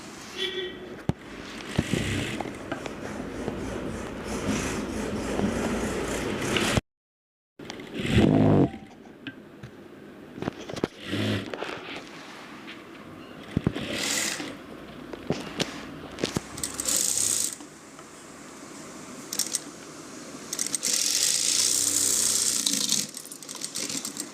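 A sewing machine stitching piping on a blouse, with a steady whirring run broken by short pauses, heard alongside rustling cloth and handling noise, with a voice occasionally talking over it.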